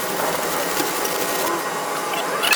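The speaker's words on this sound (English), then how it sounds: "now that I got my practice runs in, it's time to weld" Stick welding on a broken steel dumpster latch during a mobile repair job produces a continuous close, loud buzzing crackle that holds steady throughout and flares briefly near the end.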